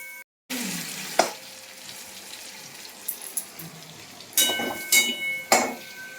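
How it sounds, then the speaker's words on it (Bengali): Prawns frying in a pan give a soft sizzle with clinks and stirring scrapes, joined by running tap water and sharp utensil knocks in a home kitchen. "তো চিংড়ি মাছটা ভাজছি"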